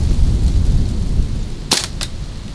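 An Umarex Legend P08 CO2 air pistol fired at a can outdoors, two sharp close cracks about a third of a second apart over a steady low background rumble.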